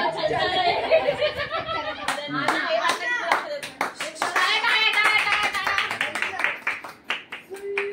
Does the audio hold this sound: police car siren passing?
no